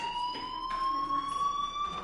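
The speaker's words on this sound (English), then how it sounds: "do you hear that fire alarm? That means you should be outside." A fire alarm rings with a steady, piercing electronic tone, continuous and fairly loud, with faint background noise and no talking.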